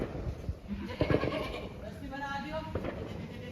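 A goat bleats on a goat farm, a few short wavering calls close by, mixed with people talking and general yard noise.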